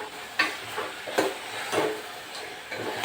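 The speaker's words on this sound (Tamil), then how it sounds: "ஒரு கைப்பிடி நல்லா வதங்கிட்டேன் அந்த எண்ணெயிலேயே" Coriander and mint leaves sautéing in oil in a pan, a soft sizzle with periodic scraping stirs every half second or so, close up and steady.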